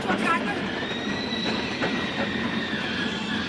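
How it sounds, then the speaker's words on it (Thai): A train rolls along steadily, with a continuous rumble and thin, high wheel squeals drawn out over it, while a voice speaks over the top. "เฮ้ย อันนี้ อันนี้รถไฟไหม้เนี่ย"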